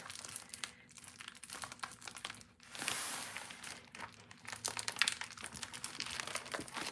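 Plastic packaging crinkles and crackles in hands during an unboxing, a close, quiet run of rustling bursts with one louder tearing crunch partway through.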